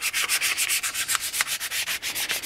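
Wet-dry sandpaper rubbed over a guitar body in quick, steady back-and-forth strokes, loud and close, alone with no voices.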